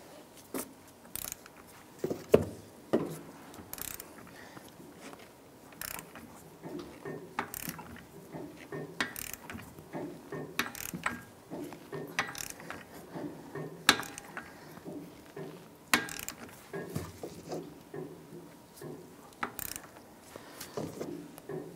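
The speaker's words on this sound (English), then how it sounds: "We're going to go ahead and torque down our axle nut to 221 foot-pounds." Ratcheting torque wrench tightening the axle nut on a 2001-2007 Ford Escape during a strut assembly replacement, giving repeated close mechanical clicks in short bursts across the whole stretch, with no talking.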